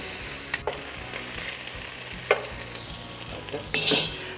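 A pan of Cajun dirty rice base cooks down with a constant close sizzle, broken by a few spoon clicks and one loud scraping stir near the end; nobody speaks.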